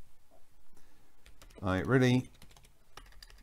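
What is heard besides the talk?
typing on a computer keyboard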